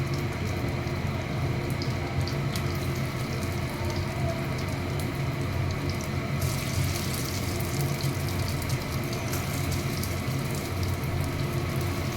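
Steady, dense sizzle of coated fish frying in hot oil in a home kitchen pan on a gas stove, a continuous crackling hiss with no voices.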